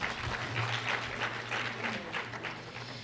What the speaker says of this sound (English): let's give the mayor another round of applause